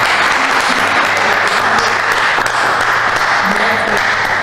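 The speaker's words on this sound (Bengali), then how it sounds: "জোরে হাততালি টিম এর জন্য।" An audience at a college quiz and game show breaks into loud, dense, sustained applause for a team, with voices faintly mixed in.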